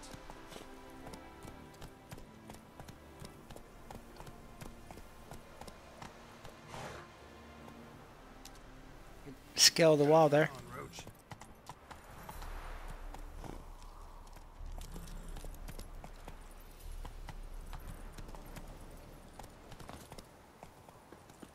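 Hoofbeats of Roach, the horse in the Witcher 3 Heart of Stone expansion, repeat steadily at a gallop under game music, broken by one loud burst of other sound partway through, with a voice briefly speaking.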